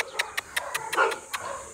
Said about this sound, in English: Oh, here's another big dog.